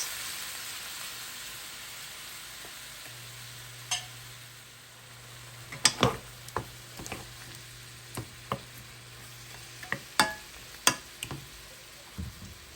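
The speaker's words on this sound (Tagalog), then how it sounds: "Stir fry the meat until the blood is done" Pork sizzles in a hot pan while being stir-fried for adobo, a steady close frying hiss broken by repeated scraping and clacking stirs of the spatula, with no talk.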